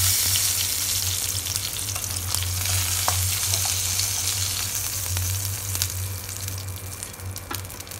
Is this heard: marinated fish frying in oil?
yes